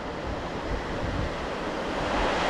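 Steady roar of Baltic Sea surf washing onto the shore of the Baltic Spit, continuous and fairly loud, with some wind noise over the microphone.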